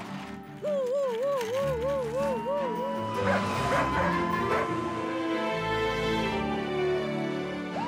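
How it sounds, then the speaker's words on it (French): A cartoon dog from a Matchbox vehicles show barks and yips in a lively, wavering run, close and loud, over busy action noise and clattering. "Attention, chien."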